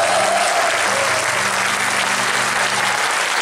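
Loud, steady applause from an audience for a band at a posthumous tribute concert, with a faint sustained tone beneath the clapping.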